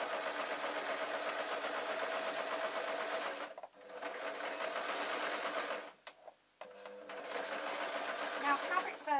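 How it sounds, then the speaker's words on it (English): A sewing machine runs in steady, fast mechanical bursts as it stitches fabric fur along the back of a stuffed toy raven, pausing briefly twice before starting again. "I'm going to sew along the back"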